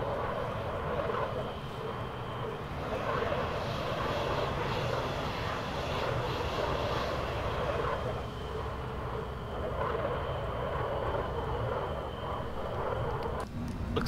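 A Eurofighter Typhoon jet in Microsoft Flight Simulator drones with a steady, broad engine roar, continuous and even throughout, with a faint click near the end.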